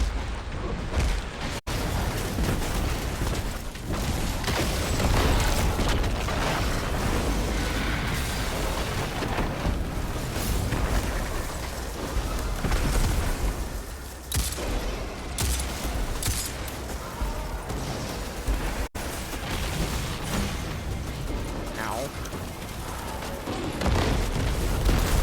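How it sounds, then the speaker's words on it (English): Dense, continuous barrage of explosions from the video game Destiny 2, booming and overlapping almost without pause across the whole stretch at steady high loudness. "So many explosions."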